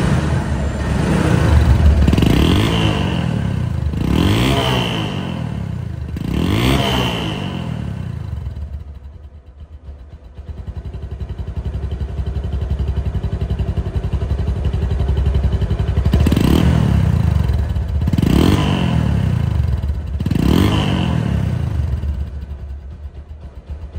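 A second-hand motorcycle runs after a self start. The engine revs loudly three times, drops to a low idle for several seconds, then revs up three more times, all close and without talk.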